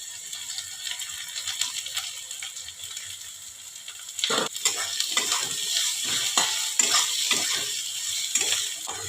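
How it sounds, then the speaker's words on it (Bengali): Grated coconut is being fried with potatoes in a pan: a quiet, steady sizzle, then scraping stirs that add repeated crisp strokes throughout. "একটু নারকেল কোড়াটাকে একটু ভেজে নিলাম হালকা করে"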